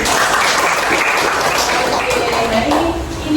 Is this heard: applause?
yes